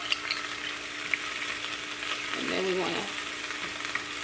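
Bacon and egg fry in a pan, a close, steady sizzle with a louder spattering swell midway as the egg goes in beside the bacon; someone speaks briefly over it.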